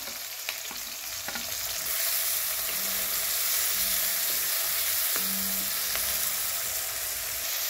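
Tomatoes sautéing in hot oil with a steady, loud sizzle that swells after the first couple of seconds, with occasional stirring scrapes and no talk over it.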